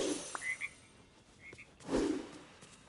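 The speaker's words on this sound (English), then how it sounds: "Little froggies." Small frogs croak outdoors on a cold night: a few short, scattered chirping croaks at moderate distance, then a fuller, lower croak toward the end, over quiet background.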